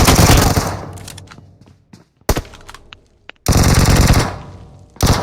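Automatic gunfire in the PUBG Mobile battle royale game, with loud, close bursts of rapid shots that open and close the span, broken by a quieter gap holding a few scattered single reports.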